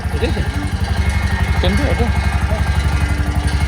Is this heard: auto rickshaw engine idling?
yes